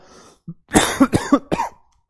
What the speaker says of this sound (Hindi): सच में खांसी आ गई थी